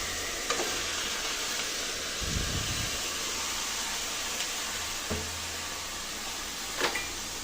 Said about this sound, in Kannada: ಇವಾಗ ನಾವು ತೊಗೊಂಡಿದ್ವಲ್ಲ ಈ ಮಸಾಲೆನ ಎಲ್ಲನೂ ನಾವು ಹುರ್ಕೊತಾ ಇದ್ದೀವಿ